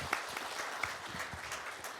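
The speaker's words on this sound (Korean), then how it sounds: "박수로 맞이해 주십시오." Polite applause from the audience at a Korea-China-Japan local diplomacy leadership session, a steady patter of many hands at middle distance, fairly soft, with no talking over it.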